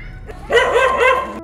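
A dog barks once up close, a short, loud, yelping bark with a whimpering edge that stands out clearly.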